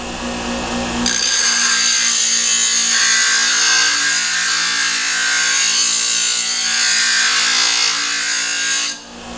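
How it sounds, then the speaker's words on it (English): A power grinder works a kunai blade in a loud, steady, continuous grind for several seconds, its pitch wavering slightly as pressure shifts before it trails off at the end. "And get your initial grind off that."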